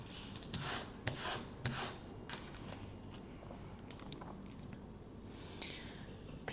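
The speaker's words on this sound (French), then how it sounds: "C'est parti pour gratter les maillots." A scratch-card lottery ticket for a football-themed game is scraped in short, dry rubbing strokes, close and fairly quiet, with brief pauses between bursts and no talking.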